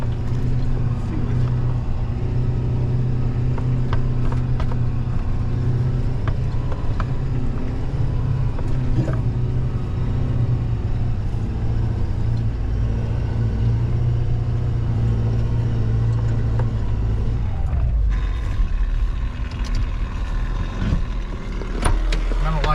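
A wrecker truck's diesel engine rumbles low and steady while it backs in. The idle stays loud and close throughout, with a shift in engine tone near the end.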